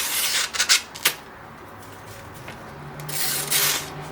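The tip of a knife blade scrapes and cuts through a can lid, making short bursts of rough scratching, a few sharp rasps early, then a quieter stretch and a final grinding pass.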